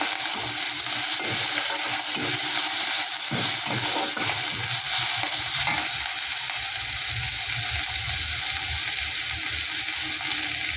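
Grated ginger, garlic and green chili fry in oil in a pan with a steady, bright sizzle that runs the whole time, close and loud, with some low stirring clatter mixed in and no voices.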